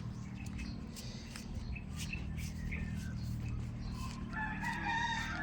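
A rooster crows over a steady low hum, with another crow rising near the end; moderately loud and fairly close.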